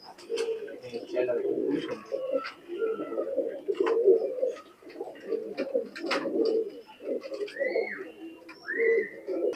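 Pakistani high flyer pigeons coo repeatedly in a loft, a steady run of soft, throaty rolling calls close by, with a few whistle-like sounds mixed in.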